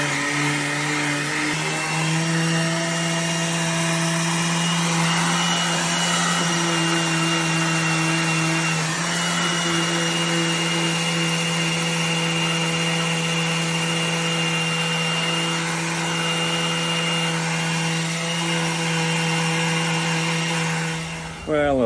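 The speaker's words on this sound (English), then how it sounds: "It's not the easiest place to sand. There's lots of little curves and edges, and the sander won't get into the seams." A power sander works on the curved wooden seat of a narrowboat, giving a loud, steady whine that shifts pitch slightly as pressure changes and cuts off abruptly at the end.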